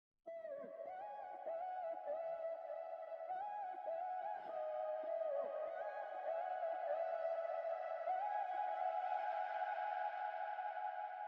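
Chopped vocal samples from Dylan Matthew, heavily processed with effects, form a continuous echoing, synth-like melodic line that sustains steadily at a soft level with no other sounds.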